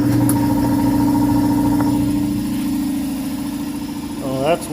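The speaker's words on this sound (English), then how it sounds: "and we'll see if the compressor will start" A trailer air conditioner compressor starting up on a 10 kW inverter, a loud steady mechanical hum and drone close by that eases slightly, with a brief tonal whine near the end.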